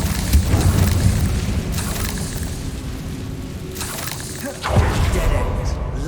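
Incendio fire spell cast in Hogwarts Legacy: a heavy, roaring blast with a deep rumble, followed by a second sudden boom near the end, loud and close over a continuous low background.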